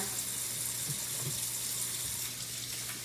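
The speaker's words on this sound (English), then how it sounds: "And then rinse it off." Tap water runs steadily into a sink while soapy hands are rinsed under it, a close, even splashing hiss lasting the whole stretch with no one speaking.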